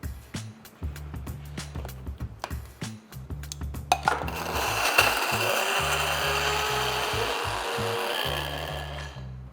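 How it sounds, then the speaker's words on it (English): Spices including hing, fennel seeds and powdered ginger ground into powder, first as quick irregular knocks and rattles, then a continuous loud whirring grind that fills the last half and tails off. "next, we're going to grind this into a really nice powder."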